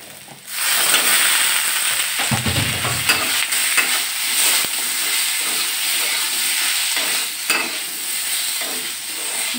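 Potatoes sautéing with onions fried until deep reddish-brown in a pan, giving a steady close sizzle with scraping and stirring clatter throughout, no one talking.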